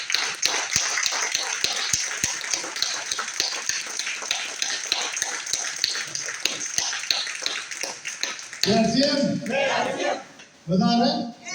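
A training-hall audience bursts into loud, sustained applause with scattered cheers for their coach, a dense continuous wall of clapping that gives way near the end to people talking.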